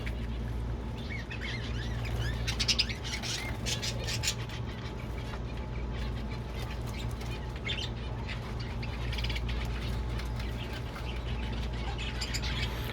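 Pet birds in a cage flap their wings and squawk over a steady low mechanical hum, with a busy stretch of chirps and flutters at moderate distance.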